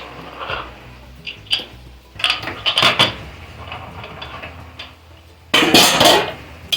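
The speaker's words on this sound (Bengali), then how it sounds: "এইবার প্রেসার কুকারটা খুলছি" A metal pressure cooker is opened in a home kitchen while mutton is being cooked, with scattered metallic clanks and clicks from the lid and utensils, then a louder clattering burst of metal near the end.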